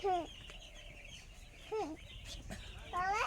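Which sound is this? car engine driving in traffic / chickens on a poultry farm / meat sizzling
chickens on a poultry farm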